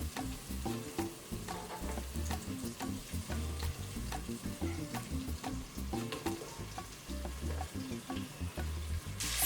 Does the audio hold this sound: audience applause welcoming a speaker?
no